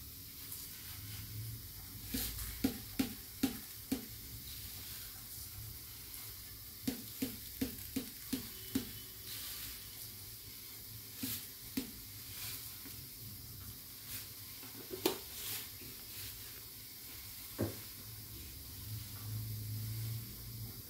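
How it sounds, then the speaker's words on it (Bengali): Ginger and cardamom simmer in a pot of water for tea, giving a steady soft bubbling hiss broken by repeated small popping ticks in short bursts, close by and alone. "আদার নির্যাস আর ছোট এলাচির নির্যাস যাতে চায়ের মধ্যে ঢোকে, সেজন্য আমি ওটা আগে ফুটিয়ে নিচ্ছি"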